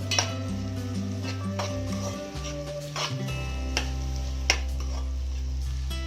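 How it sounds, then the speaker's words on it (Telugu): A spatula stirs chili powder into chopped beans in a pan, giving soft scraping and occasional metallic taps over a low steady hum, with faint sizzling in the background and no voices. "కారం వేసుకొని బాగా కలపండి."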